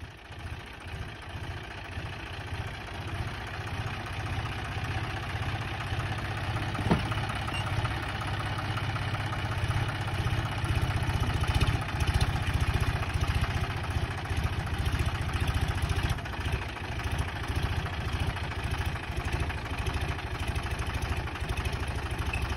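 A John Deere tractor engine idles steadily close by, a low rumbling drone that swells slightly as it is revved, heard alone without talk for over twenty seconds.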